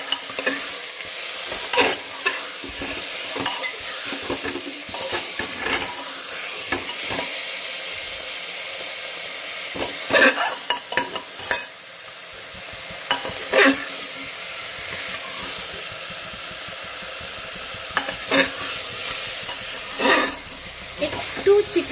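Chicken stew frying in a pan while it is stirred, with a steady sizzle under repeated scraping strokes of the spoon, close and fairly loud, and a voice speaks briefly.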